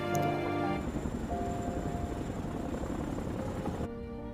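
A helicopter's rotor chops steadily and loudly throughout, with a musical tone at the start and a brief change near the end, from the zombie film Train to Busan.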